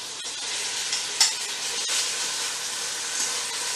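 Chorizo sausage sizzles in a hot pan alongside beef, a dense continuous frying hiss with a few small pops and scrapes, close and steady.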